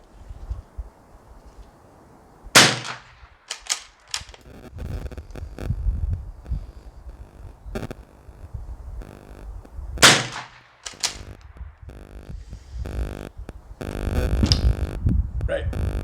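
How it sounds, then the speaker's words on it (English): A rifle fires a string of sharp, loud shots spaced irregularly outdoors, each crack ringing out among wind noise and handling sounds, with someone talking between shots. "fire another 10 shots and see if that brings this down a bit"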